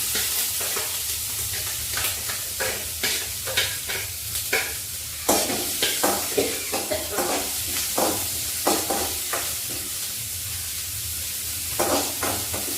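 Chillies frying in hot coconut oil while a spoon stirs them, steady sizzling broken by repeated sharp scraping strokes against the pan, loud and close, with no voices.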